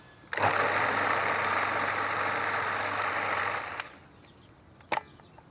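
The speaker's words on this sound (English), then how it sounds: "All I've got to do is to whiz it, but don't do it for too long." A food processor whizzes lamb tagine ingredients in one steady, loud motor whirr that runs for about three seconds and then cuts out, followed by a single faint knock.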